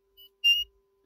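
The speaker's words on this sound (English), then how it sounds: "The beeping is a bit sensitive, it's catching, is a duotone beeping" A 4-digit static LCD beeping module gives short, faint electronic beeps, one brief tone followed by a slightly longer two-tone chirp, with quiet gaps between.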